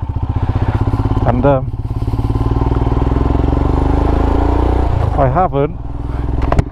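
A Royal Enfield Himalayan motorcycle rides along a road, its engine a steady close, loud thrum throughout, with a person talking over it at the start and again near the end.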